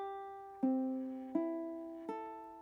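Three plucked ukulele notes, one after another at an even pace, each ringing clearly and fading, alone in a quiet room.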